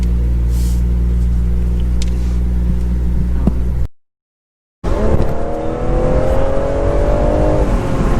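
A BMW 240i M Performance convertible's 340 hp engine rumbles at idle, cuts out briefly, then catches and revs with a rising, throaty growl, close by and loud.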